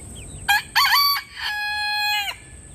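A frizzle chicken, a bearded breed with puffy cheek and chin feathers, crows loudly and close by in two short bursts followed by one long drawn-out call, with faint chirps and background noise around it.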